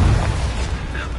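A Confringo fire spell blast in the Hogwarts Legacy video game, a dense booming burst that is loudest at the start and then rumbles on steadily to the end, with no voices over it.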